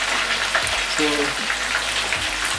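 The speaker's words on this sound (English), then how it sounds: "while the chicken is on fire frying" Steady hiss and crackle of food frying in hot oil, continuous throughout, with a brief spoken word over it.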